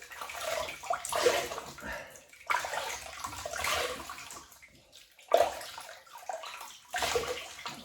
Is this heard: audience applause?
no